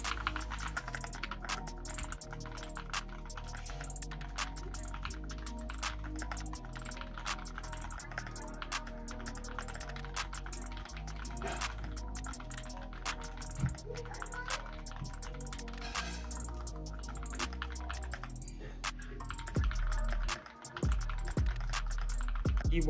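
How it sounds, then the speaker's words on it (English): Typing test on a newly built mechanical keyboard: rapid, continuous key clacks recorded up close, fairly quiet and even in rhythm, with a brief pause near the end before typing resumes. "Let's do a typing test to see how it sounds."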